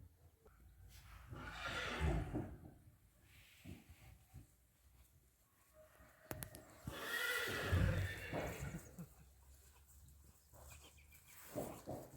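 A mare neighs loudly in a couple of drawn-out whinnies, with quieter shuffling and rustling between the calls.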